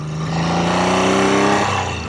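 A Triumph T160 Trident motorcycle engine revs up close with a strong, steady harmonic drone that swells and holds, then eases slightly at the end.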